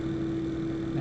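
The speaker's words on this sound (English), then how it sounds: "I can hear the pack system now." Steady air conditioning pack hum of a Just Flight F100 airliner in Microsoft Flight Simulator 2024, a constant whirring drone with a strong tonal whine, heard alone at moderate level for the full second.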